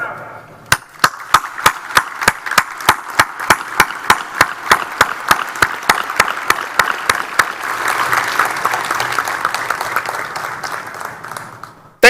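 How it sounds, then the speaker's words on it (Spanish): Applause for the men and women of the Nicaraguan Army at a military conference ceremony: a run of sharp, evenly spaced loud claps opens, then merges into dense sustained clapping from a large crowd that fades out. "demos un fuerte aplauso a cada uno de los hombres y mujeres del Ejército de Nicaragua"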